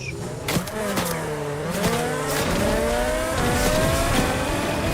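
Racing car engines roar and whine continuously in the video game Fortnite, pitch sweeping up and down as they accelerate, with a tire squeal in the mix.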